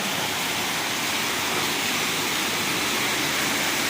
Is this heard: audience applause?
no